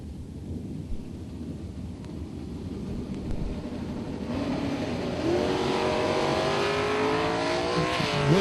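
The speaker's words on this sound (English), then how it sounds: "Really good pair of green lights here on McCaig actually with a little bit of advantage in reaction time." Two drag racing cars, a 2004 Cavalier roadster and a 1966 Chevy II, launch off the line with a loud, steady engine roar that swells and climbs in pitch as they accelerate down the strip, with no talk.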